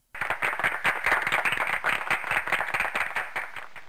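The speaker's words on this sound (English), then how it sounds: "did you hear me clapping?" A single person claps hands in a quick, steady rhythm, close and fairly loud, continuing without pause for a few seconds.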